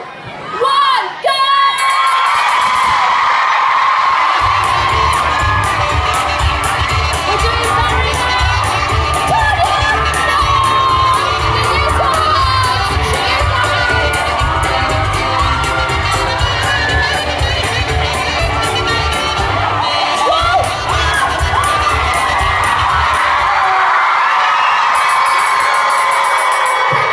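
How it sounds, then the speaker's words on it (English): Children scream and cheer for their teams in a loud, constant wall of shrill voices at a balloon challenge game inside a concert venue, with a pulsing low beat under much of it. "Remember to cheer for your team."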